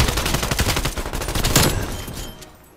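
Rapid bursts of automatic gunfire in Call of Duty: Cold War, loud and close, a quick stream of shots that builds to a sharp peak and then tails off.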